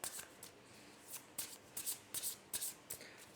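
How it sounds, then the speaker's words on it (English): A deck of tarot cards being shuffled in a series of quick, crisp riffling bursts, close up and fairly quiet, with short pauses between them. "I'll keep shuffling."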